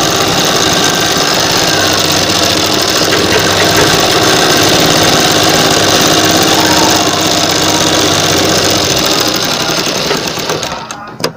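Sewing machine stitching net fabric, a loud, dense, steady mechanical whir running continuously before stopping abruptly near the end.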